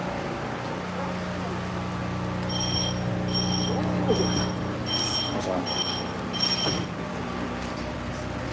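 A PATCO Speedline train running between Philadelphia and New Jersey, heard as a steady loud rumble of wheels on rails with a repeating series of high beeping tones in the middle and brief squeals.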